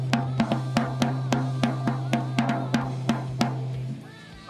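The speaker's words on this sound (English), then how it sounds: "This would be like a jazz setup, would have a drum that would sound like this." A drum tuned for a jazz setup is struck about a dozen times in a steady rhythm, each hit ringing with an open, resonant tone over a constant low hum.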